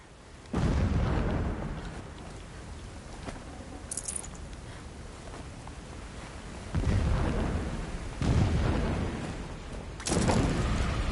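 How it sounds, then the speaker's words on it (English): Distant explosions in the video game Horizon Zero Dawn, three or four heavy booming bursts rising out of a steady rumbling background, broad and muffled, with no talk over them. "Explosions in the distance."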